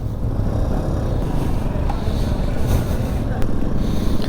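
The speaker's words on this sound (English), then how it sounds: "there's a little 125, it's purring down the road here quite nicely" A 2022 Benelli Tornado TNT 125 motorcycle cruises down the road, its small engine a steady low drone under buffeting wind noise, while the rider talks over it.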